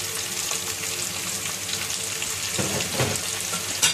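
Bitter gourd, onion and potato sabzi with turmeric, cumin, coriander and salt fries in a pan, a steady close sizzle with a few stirring scrapes near the end.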